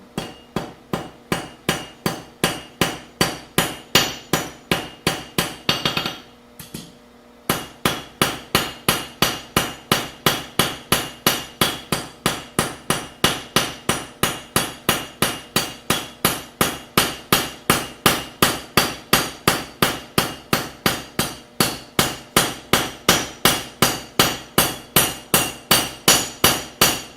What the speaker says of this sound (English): Alright, back to a real hammer.